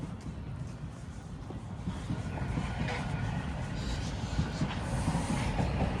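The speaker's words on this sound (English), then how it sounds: "here comes another westbound train. It's gonna head back underground and into Islington Station." A westbound Toronto subway train heads toward Islington Station past a park, its rumble and clattering wheels building steadily louder from a distance, heard outdoors with no talk.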